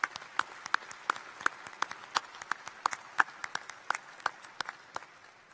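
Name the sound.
applause for two new DVM graduates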